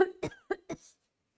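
Four quick, dry coughs in a short burst, close by, then silence.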